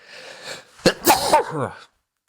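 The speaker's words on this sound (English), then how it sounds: "That sneeze is staying in." A single sharp sneeze bursts out close to the mic, followed by a short breathy exhale before the sound drops to silence.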